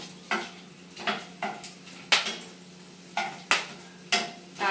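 Whole cardamom, cloves and cinnamon frying in a pan are stirred with a utensil, making about ten sharp scraping clicks at an uneven pace over a faint background sizzle.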